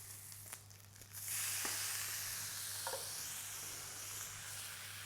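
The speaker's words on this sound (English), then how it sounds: "just on its fat there, just to crisp up that exterior fat and also bring more beef fat into the pan" Beef steak fat sizzles in a hot pan, starting with a faint hiss and swelling into a steady bright frying crackle, with a few small clinks as the meat is handled.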